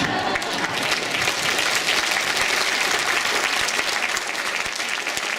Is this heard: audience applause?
yes